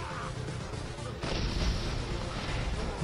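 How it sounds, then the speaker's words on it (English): A grenade explodes in the video game Borderlands, a sudden heavy boom about a second in that leaves a louder rumbling wash of noise behind it, amid game sounds and brief talk. "Actually, he threw a grenade."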